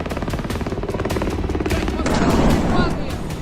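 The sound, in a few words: gunfire and explosions during the battle in Kyiv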